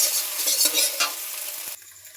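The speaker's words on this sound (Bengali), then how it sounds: "এই যে ডিম ঝুরি ঝুরি করে ভাজা হয়ে গিয়েছে।" Eggs frying in oil in a wok, a bright close sizzle broken by a few scraping stirs of a utensil before the sound drops away sharply to a faint hiss near the end.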